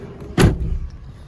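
The rear door of a 2017 Toyota FJ Cruiser swings shut from inside the cabin with a single close, solid thud, followed by a brief muffled rumble and then quiet.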